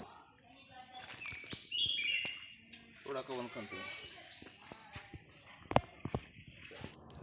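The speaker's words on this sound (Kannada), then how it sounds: "ಹಕ್ಕಿ ನೋಡಿ ಎಷ್ಟು ಚಂದ ಕೂಗ್ತಾ ಇದೆ." Outdoors at a village home, birds chirp and whistle in short bright phrases, fairly faint, over insect buzzing, scattered footsteps and a few knocks.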